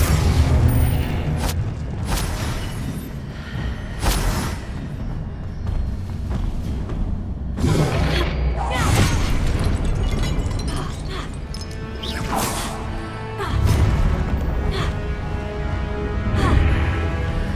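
Spell explosions from a Hogwarts Legacy battle: repeated booming blasts, crackling bursts and crashes at a steady pace throughout, loud and near, with dense layered impacts and no talking.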